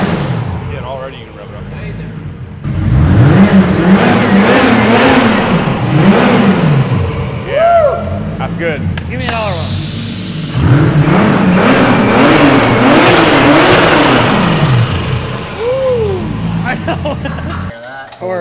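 A turbocharged 2JZ engine swapped into a six-speed Mercedes-Benz runs close by, rising and falling through repeated revs with a rough, uneven idle between; people talk over it.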